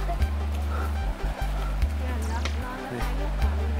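Water splashing and sloshing as a baby elephant plays in a river in Thailand, with irregular bursts of splashes over a low rumbling background.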